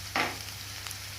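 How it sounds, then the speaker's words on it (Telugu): Prawns frying in a pan for a prawn fry dish give a quiet, steady sizzle, with a brief louder burst of hiss near the start as the pan is stirred. "వేయించండి కాదు, మేము కూడా వేయిస్తున్నాం"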